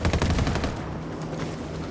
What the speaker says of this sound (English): Apache's about to fire.